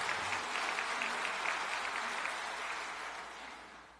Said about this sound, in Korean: 승리하고 돌아오시라고 우리 김석진 대교장님 박수 한번 보내주시기 바랍니다.